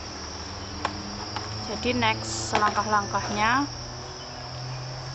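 Crickets in a cricket-egg farming setup, a steady high chirping bed with a few brief, sharp clicks, while a person talks briefly over it.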